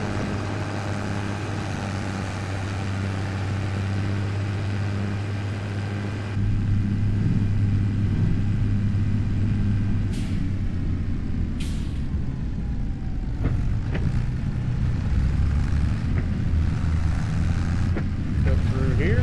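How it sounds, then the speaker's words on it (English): An old John Deere tractor pulling a small trailer runs with a steady low engine drone, close and continuous, with rougher rumbling and a few clanks as it moves along during summer farm work. "This old John Deere sounds pretty good"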